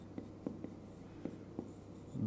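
Pen writing on paper during a geometry construction, quiet scratchy strokes with several short taps and scribbles in an irregular rhythm, close and faint.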